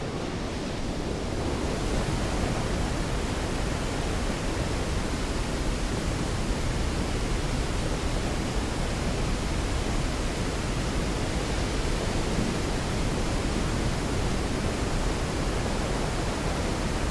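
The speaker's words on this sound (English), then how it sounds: "This waterfall is famous not only because it is the largest waterfall in Europe" Europe's largest waterfall in Iceland, a steady, dense roar of falling water that fills the scene close and loud, with constant wind-like rushing and no break for the full length.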